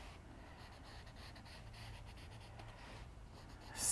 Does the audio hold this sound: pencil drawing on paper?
yes